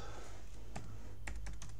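A computer keyboard is tapped quietly for a web search, giving a few soft, isolated keystrokes and a short cluster near the end over a steady low background hum, with no talking.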